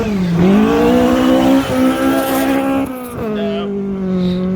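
A Ford Escort rally car at the Ben Nevis Station Golden 1200 event passes close by, its engine loud and rising in pitch, dipping briefly, then climbing again as it goes past.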